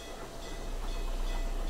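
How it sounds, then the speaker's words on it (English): A train rumbles past nearby, a steady low roar with faint rhythmic clatter that swells slightly as it goes. "Is the train gone?"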